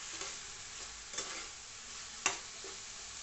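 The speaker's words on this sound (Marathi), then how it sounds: "आपण छान असं तेल सुटूस परतून घेऊया" Chole curry masala sautéing in oil, with a steady faint sizzle and occasional light stirring scrapes, including one sharp tap of the spoon; quiet, close, no voices.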